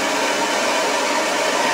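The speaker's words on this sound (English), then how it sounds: "I'm using the torch, but it's very hard to get it uniform." A gas torch flame roars steadily and loudly at close range, heating a toolmaker's clamp during gun bluing, with no talking.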